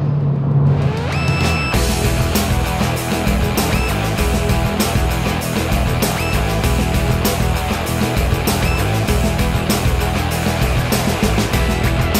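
A car drives along with a steady, loud road and engine roar filling the whole stretch, the driver silent at the wheel.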